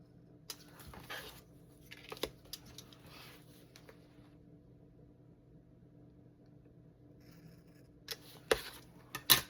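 Scissors snipping out a paper letter M, a few quiet scattered cuts near the start and a cluster of sharper snips toward the end, with long faint pauses between.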